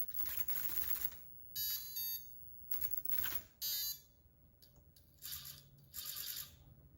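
Short, repeated electronic beeps in separate bursts with brief silences between, quiet and close, like a small device chirping, coming from the electronics of an SCX24 RC crawler car.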